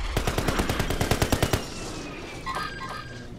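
A rapid automatic burst of about a dozen evenly spaced shots rattles out in a video game, then cuts off, leaving faint electronic beeps and ambient noise.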